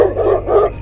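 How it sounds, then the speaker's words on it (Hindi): A dog barks sharply twice in quick succession at night in a village, loud and close, with no other sounds around it. "कुत्ते भी भूतों के साथ पार्टी कर रहे हैं क्या?"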